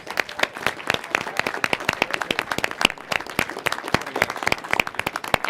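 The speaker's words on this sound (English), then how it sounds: "So big round of applause for Oxford Space." Audience applause at the 35th Space Symposium in Colorado Springs, individual claps distinct and sharp in a steady, moderately sparse patter, fairly close, with no speech over it.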